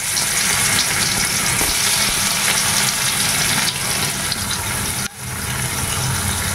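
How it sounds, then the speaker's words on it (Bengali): Bitter gourd pieces coated in turmeric and salt fry in white oil in a wok, making a steady close sizzle with a brief dip near the end and no voices. "কড়াইতে সাদা তেল দিয়ে দিয়েছি, এবারে উচ্ছেগুলো ভেজে নিচ্ছে।"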